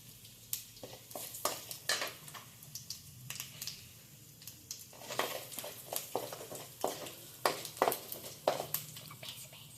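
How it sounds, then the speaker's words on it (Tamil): Mustard seeds and white urad dal splutter in hot oil, giving off a quiet run of irregular pops and crackles that bunch together in places, with soft kitchen noise underneath. "இப்போ கடுகு வெள்ளை உளுந்து போட்டுட்டு இந்தமாரி பொரியணும். இந்தமாரி சத்தம் கேட்குதா?"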